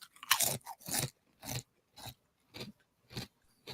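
Crisp crunches and chewing of a fortune cookie right up against a microphone, about seven sharp bites spaced roughly half a second apart, loud and intimate with no talking.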